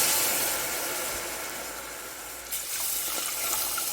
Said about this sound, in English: And then I'm going to pour in my chicken stock.